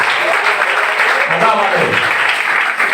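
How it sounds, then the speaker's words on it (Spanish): Church congregation applauding the Lord during a sermon on spiritual warfare, a loud sustained roar of clapping blended with raised voices and cheering from a packed room. "Dale un aplauso al Señor, hermano."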